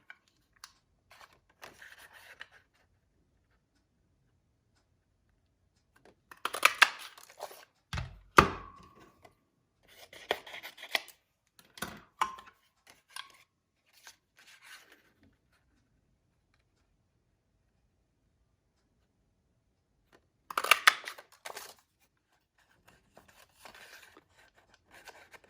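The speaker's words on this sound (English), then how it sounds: "Just snip that away." Metal snips cutting away an angled shape from stamped craft material, sparse quiet snips and clicks in small clusters separated by long silent gaps.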